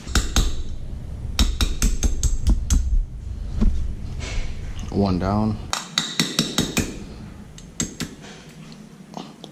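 A hammer taps a small drill bit to drive out the pins of a four-piston Brembo brake caliper's pads: sharp metallic strikes in quick bursts, then sparser taps, with brief talk in between.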